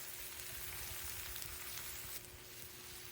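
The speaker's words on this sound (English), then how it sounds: "Gonna give those a nice stir. Make sure they're all coated in the oil" Onions are being stirred in hot oil in a Dutch oven over a live fire, giving a steady, dense sizzle with a low fire rumble underneath.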